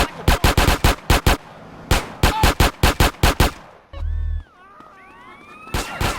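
Rapid bursts of gunfire from the PS2 version of GTA San Andreas, sharp close shots fired in quick runs of four to six with short gaps, broken briefly by a low thud and warbling tones before another shot.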